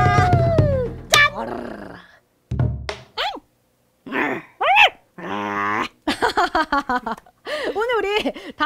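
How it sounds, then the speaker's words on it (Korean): A dachshund barks and growls in short bursts through a lively Korean folk song, the dog's yelps and whines mixing with singing voices in a close, echoing room. "오늘 우리 닥스훈트하고 바둑이하고 같이 통영 개타령 신나게 한번 불러봤습니다."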